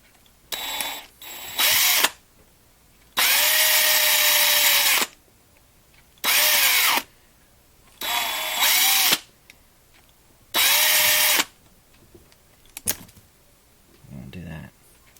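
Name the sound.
DeWalt 36-volt drill drilling out a diecast car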